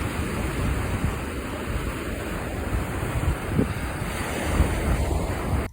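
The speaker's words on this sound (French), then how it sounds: "Par contre, il y a encore du vent aujourd'hui" Strong wind roars steadily across a seaside beach, buffeting the microphone, with surf washing underneath throughout; no voices.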